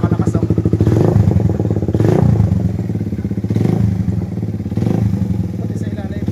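Stock-block motorcycle engine running after a piston ring replacement, with loud, steady engine drone and a rhythmic mechanical knocking pulsing throughout, swelling periodically as the throttle rises; someone talks over it.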